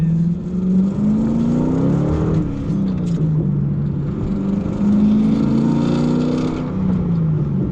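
Car engine pulling hard under acceleration in competitive mode, heard from inside with rising and falling engine tones as it revs through gears, loud and continuous with no talk.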